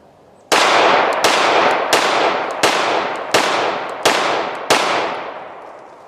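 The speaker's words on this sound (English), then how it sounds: "I mean, even rapid fire," A Rock Island Armory RIA 5.0 pistol fires seven loud, close shots in rapid, evenly spaced succession, each sharp report ringing out with a long decaying tail.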